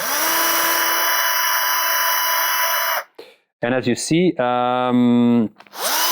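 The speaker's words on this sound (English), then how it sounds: "that's why I'm going to keep on drilling and drilling also through the wrist joint" A power drill bores steadily through a hollow model part at the wrist joint, loud and close for about three seconds before stopping, followed by a person talking.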